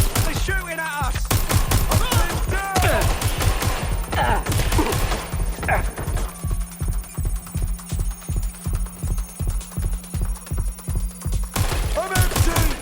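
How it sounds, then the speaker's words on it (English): Rapid bursts of enemy gunfire in the Watch Dogs: Legion video game, loud and dense at first, then settling into a steady rhythmic volley of repeated shots with a low throbbing pulse underneath. "They're shooting at us!"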